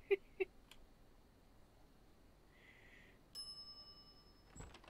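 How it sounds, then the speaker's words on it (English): Two quick bright dings of a counter bell in The Secret of Monkey Island, close and crisp, followed by quieter room sounds and a faint tonal effect. "Step away from the counter for 2 seconds and some idiot's already ringing that stupid bell."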